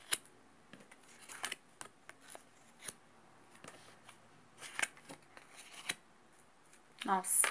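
A new, slippery deck of cigano fortune-telling cards is handled and shuffled, giving scattered soft riffles, slides and taps in irregular bursts, close and fairly quiet, with a brief louder rustle at the end.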